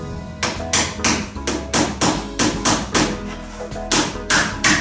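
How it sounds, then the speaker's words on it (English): Steady hammer blows drive nails at an angle into a wooden boat under construction, with about a dozen sharp, evenly spaced strikes sounding close and loud, and no talking. "so I'm driving some of these nails in on a bit of an angle,"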